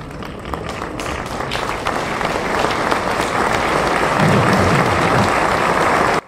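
Audience applauding after a stage reading, dense loud clapping from a full room, sustained and building slightly before cutting off abruptly, with faint voices beneath.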